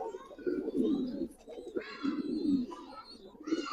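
Giribaz pigeons cooing in a pigeon collection, soft repeated low coos from several birds close by, with some faint chirps and a little background chatter.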